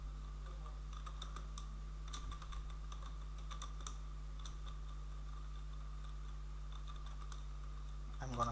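Keys of a computer keyboard clatter in a steady run of quick, light clicks while HTML code is typed, fairly close, over a constant low electrical hum.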